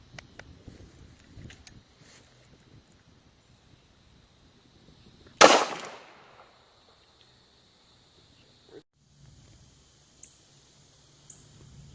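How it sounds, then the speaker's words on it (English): A single 9mm shot from a Beretta pistol fired at homemade body armor, one sharp crack with a short decaying tail amid quiet outdoor background and faint scattered ticks. "we're going to test it against 9mm from my buddy's Beretta"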